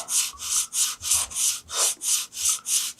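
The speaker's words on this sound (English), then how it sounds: "now I'm just going to go back and forth with my sanding block" A sanding block with a 5-inch piece of sandpaper rasps back and forth across wood in about eleven steady, even strokes, close up and alone.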